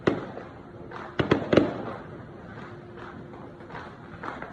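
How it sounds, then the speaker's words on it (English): Fireworks going off outdoors, a quick cluster of three sharp bangs in the middle, then a fainter pop near the end over a low background rumble. "There's some fireworks."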